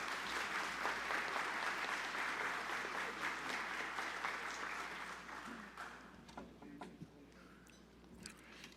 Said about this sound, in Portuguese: Salva de palmas também, Sua Excelência